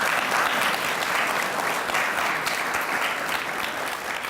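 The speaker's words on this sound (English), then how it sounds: "Can I have a round of applause for our wonderful panel here today?" Audience applauding for a panel at a campus discussion on the First Amendment at public universities: dense, sustained clapping from a large crowd that stays loud and even throughout, with no talking.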